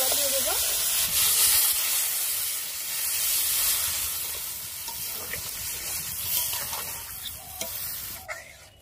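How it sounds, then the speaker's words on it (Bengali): Water poured into a thick, simmering curry for a pakal fish dish sets off a loud, steady sizzle and hiss with steam in the pan, with occasional stirring scrapes and soft clatter near the end. "এবারে পরিমাণ মতো জল দিয়ে দেবো।"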